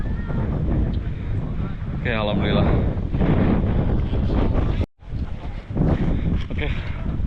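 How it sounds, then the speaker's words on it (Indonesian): Strong mountain wind on the Selo trail of Mount Merbabu in fog, buffeting the microphone in loud, uneven gusts, with a hiker talking over it and a brief dropout midway. "masih kabut kencang angin"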